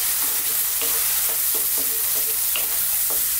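Canned plum tomatoes broken down in a hot pan with a wooden spoon: a loud, constant sizzle with repeated dull spoon knocks and scrapes at an uneven rhythm, and no talking.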